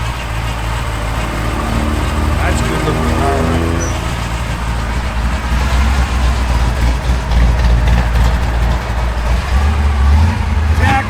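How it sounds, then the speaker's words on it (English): A 1963 Chevrolet Impala SS engine runs steadily and loudly up close, its drive belt squeaking thinly over the low rumble, mostly in the first few seconds. Someone speaks briefly over it. "Belt squeaking."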